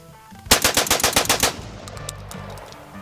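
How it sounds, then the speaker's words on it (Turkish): A DCX-1 shotgun fires a rapid burst of about nine close, loud shots in quick succession, followed by a short ringing tail and faint outdoor background. "Evet, bunda seri atış yapıyoruz."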